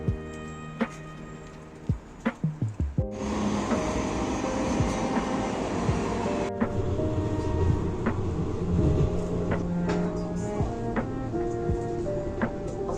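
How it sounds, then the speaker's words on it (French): A Budapest tram ride heard from inside the car, with a clattering start, then a steady rumbling roll with squeals and rattles from the wheels and rails. "je vais prendre le tram"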